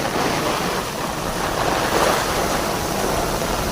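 Heavy rain pours during a storm while water rushes past nearby, a loud, dense and continuous roar of splashing and flow that never lets up.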